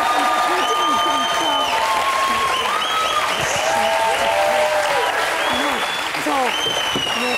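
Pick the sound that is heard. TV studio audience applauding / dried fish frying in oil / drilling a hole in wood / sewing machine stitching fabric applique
TV studio audience applauding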